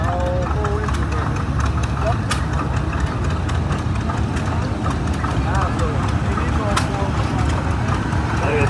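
A 1931 GP wide tread tractor with its original style muffler and air intake chugs along in a historical tractor parade, its loud, steady engine beat running close and unbroken throughout.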